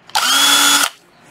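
A Japanese cordless screwdriver drill, tested after salvage, whirs in one short close burst of under a second, spinning up and stopping sharply.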